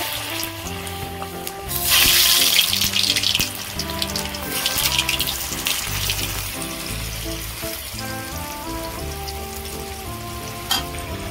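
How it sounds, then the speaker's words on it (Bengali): Potato pieces sizzle in hot oil seasoned with a pinch of salt. A loud burst of frying starts about two seconds in, then settles into a steady crackle under continuous background music. "তেল গরম হয়ে গেছে। এবার আমি আলুগুলো ভেজে নেব।"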